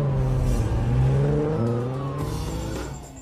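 A Toyota Supra sports car pulls away in a film scene, its engine droning loudly with rising revs and a swelling whoosh as it drives off, fading slightly toward the end.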